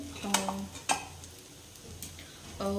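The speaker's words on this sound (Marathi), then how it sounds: "मी साबुदाणा छान परतून घेतला आहे तुपामध्ये आणि मिरचीमध्ये" Sabudana sautéing in ghee with green chillies in a pan on a gas stove: a soft steady sizzle with a few spoon clinks and stirring scrapes, close by and fairly quiet.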